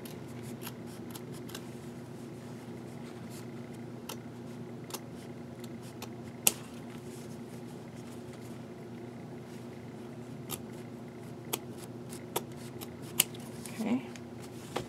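Scissors snip through a denim notebook cover, trimming around the edge, giving sparse, sharp little cuts spaced irregularly over a steady low background hum, fairly close and quiet.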